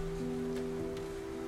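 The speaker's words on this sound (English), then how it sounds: "The sound of the rain is soothing and mesmerizing" Steady rain pattering on a boathouse at night, a soft continuous wash with a low sustained drone beneath, no voices.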